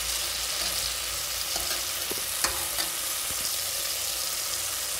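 Onions and tomatoes sautéing in a pan for ghee sambar rice, a steady soft sizzle with a few light spoon scrapes and clicks, close and alone without talk.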